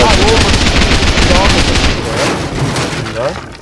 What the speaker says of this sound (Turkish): Herhalde patlayıcı mermiler.